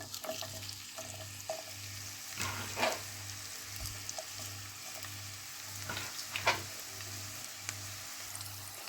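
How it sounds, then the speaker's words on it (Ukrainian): Onion sizzles steadily in oil in a preheated frying pan, with occasional stirring scrapes and a faint low hum pulsing in the background. "На розігріту сковорідку наливаємо трошки олії і викладаємо сюди цибурку."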